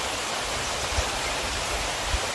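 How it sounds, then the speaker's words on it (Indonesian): Mountain stream flowing beside a hiking trail at a junction, a steady broad rushing hiss of water close by, unbroken and without voices. "ada aliran sungai, bisa terdengar suaranya."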